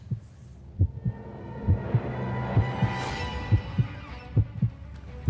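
A heartbeat sound effect, regular low double thumps pulsing steadily over a soft hum, with a brief swelling whoosh partway through.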